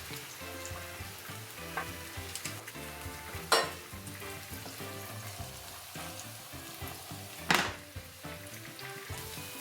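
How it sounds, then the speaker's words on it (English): Tofu frying in olive oil in a hot pan over medium-high heat, a steady dense sizzle with crackles throughout and two brief louder clatters, close, no voice. "add about 2 tablespoons of olive oil in a pan on medium-high heat. And I'm going to place the tofu in one layer"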